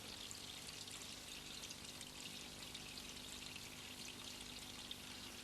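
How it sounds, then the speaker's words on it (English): Hot water pours steadily from a running tap into a bath, a continuous broadband rushing splash that holds at an even level throughout with no talk over it. "Turn the tap on, Sooty."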